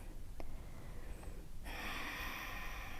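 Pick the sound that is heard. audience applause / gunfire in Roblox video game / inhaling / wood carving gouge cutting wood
inhaling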